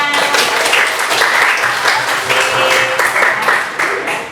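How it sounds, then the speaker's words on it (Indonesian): Junior high school students in a Gondang classroom clap together in a loud, sustained burst, with pupils' voices calling out over the applause as it gradually fades. "tepuk tangan untuk kita semua"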